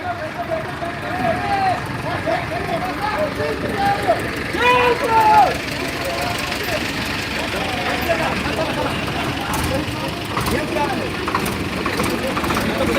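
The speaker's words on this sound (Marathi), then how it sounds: "हे ट्रॅक्टर घेऊन या आंदोलनामध्ये सामील होताना दिसत आहेत" A tractor engine idles and runs at a village protest march for a storage reservoir, a low steady rumble under crowd chatter and nearby voices.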